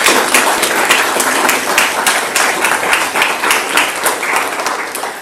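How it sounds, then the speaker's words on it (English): Audience at a school board of education work session applauding, a dense, steady round of clapping from many hands that holds for several seconds with no talk over it. "So if we could just for a moment give her a round of applause."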